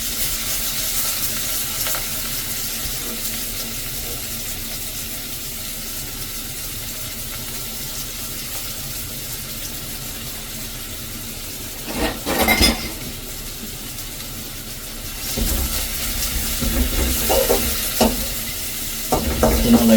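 Small onions fry in sesame oil in a pan, a continuous crackling sizzle. Louder scraping bursts of stirring break in partway through and again toward the end.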